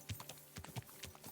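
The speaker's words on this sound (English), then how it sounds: "horseshoes are digging in that sloppy mud." Quick, irregular horse hoof clops in sloppy mud in Kingdom Come: Deliverance 2, a few soft thuds spaced across a second or so, moderately quiet.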